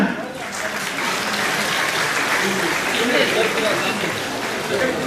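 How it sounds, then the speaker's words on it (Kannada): A crowd breaks into loud, sustained applause at a track suit distribution for government school students in Mulbagal taluk, with dense clapping that holds steady throughout. "ಜೋರಾದ ಚಪ್ಪಾಳೆ ಮುಖಾಂತರ"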